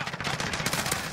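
Rapid automatic gunfire in the Warzone video game, a dense burst of closely spaced shots lasting about a second, loud and near.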